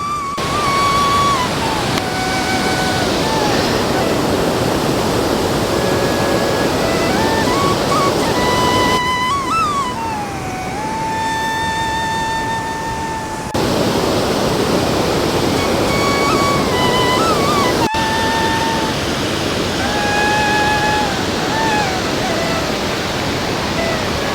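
A waterfall near Dhanbad roars loud and steady from close by, a continuous rushing wash with a faint tonal whine running through it.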